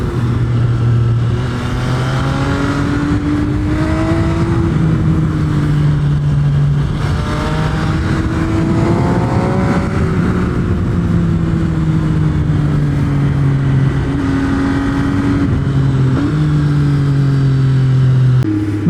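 A 2020 MV Agusta F3 800 RC motorcycle ridden hard, its engine revving loudly and rising in pitch through repeated gear pulls, with brief dips between shifts and wind rush underneath.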